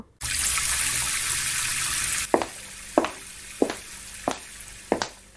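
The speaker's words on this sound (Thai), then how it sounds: "ก่อนจะนำผักที่เพิ่งหั่นเสร็จไปล้าง" A steady stream of running tap water hisses for a couple of seconds while vegetables are washed, then stops, followed by several sharp splashes and knocks in a sink.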